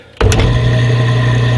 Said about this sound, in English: I actually built this to be a little 1x30 belt sander